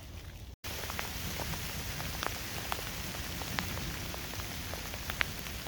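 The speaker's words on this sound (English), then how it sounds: "this should all stick as freezing rain" Freezing rain falls steadily outdoors during a nature walk, a dense even patter with scattered sharper drop ticks close by and no voices.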